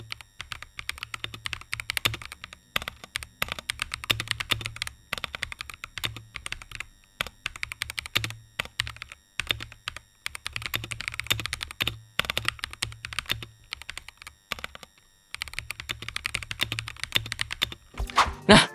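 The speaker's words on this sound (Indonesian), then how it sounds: "Jadi yang buat keyboard ini punya hasil suara yang kayak talkie gitu ya." Light linear switches on an NYK Daemon 82 keyboard clatter in fast, steady bursts of keystrokes, close and clear, with a few short pauses and heavier thunks near the end.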